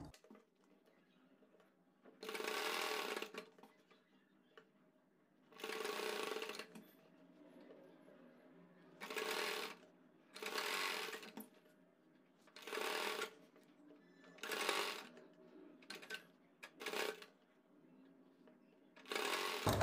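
A sewing machine stitches a palazzo hem over elastic in bursts of close, rapid whirring stitching, around nine short runs separated by quiet pauses.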